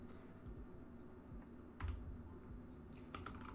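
Computer keyboard typing comes in quick irregular bursts of clicks at close range, fairly quiet against a low background hum, with no talking.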